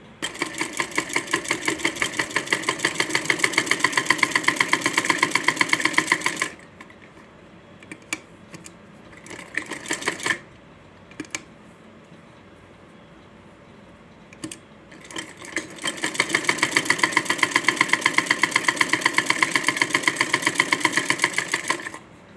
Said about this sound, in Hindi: अब हम इसे सिलाई मशीन पर तैयार करेंगे।